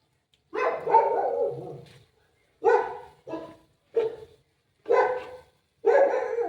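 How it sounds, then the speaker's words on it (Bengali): A dog barks in a series of six separate short bursts, with a longer first bark and quieter pauses between, fairly close in a quiet home at night. "কুকুর ডাকছে কেন?"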